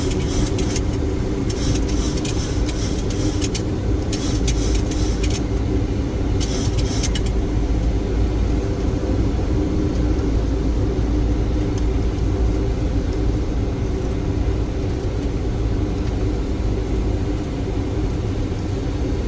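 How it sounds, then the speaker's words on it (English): Rain striking the cockpit windshield of a Boeing 737 on final approach in stormy, gusty crosswind weather, a steady dense patter over the loud continuous rumble of engines and airflow, with bursts of sharper hiss in the first seven seconds. "You can hear the rain on the windshield."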